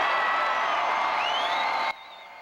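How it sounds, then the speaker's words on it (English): A rally crowd roars and cheers for Mitt Romney at a Colorado election-night event, a dense sustained wash of voices and whoops that cuts off abruptly near the end, leaving quieter room tone. "the crowd was roaring with Romney chants tonight"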